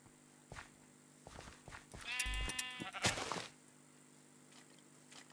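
Sheep in Minecraft let out a couple of short bleats in quick succession, moderately loud over quiet game background and faint clicks.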